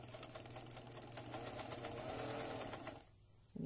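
A sewing machine stitches a fabric channel for a flute instrument mask, a rapid steady whirring buzz running close up for about three seconds before stopping abruptly.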